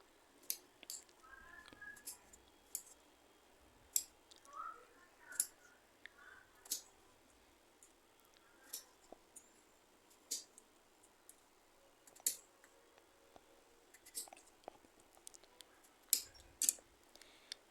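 A knife chops a tender snake gourd into pieces on a board, producing about a dozen sharp, quiet clicks and taps at a loose, irregular rhythm over near silence.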